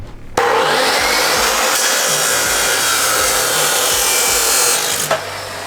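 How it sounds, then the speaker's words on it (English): Metal tubing is sawn to length for a V8-powered go kart frame: one continuous, loud, rasping cut that runs steadily for about five seconds, with no talking. "So we're gonna need to cut 4 31-inch pieces of tubing to join the two."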